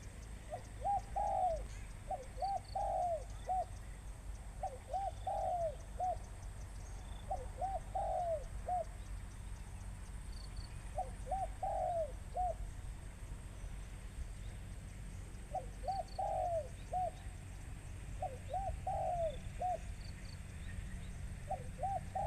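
Soft, repeated coos from a trained spotted dove in short phrases at regular intervals, moderately distant, over a low outdoor background hum.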